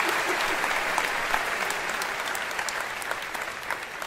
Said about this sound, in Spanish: fuerte el aplauso para Diego.